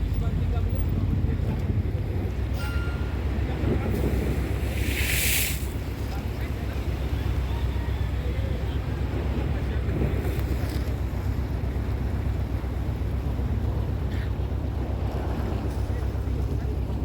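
Large waves churn at a boat dock where wooden boats cannot berth, a constant loud rumble of surf and wind buffeting the microphone, with occasional brief splashes and faint voices.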